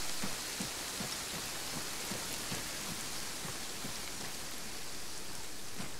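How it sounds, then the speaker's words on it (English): Steady, hissing rain pours down in an outdoor scene of the video game Arma 3 with the Ravage mod on Altis, with faint soft thumps recurring underneath; continuous and fairly quiet, with no talk. "Oh good, the rain's stopping."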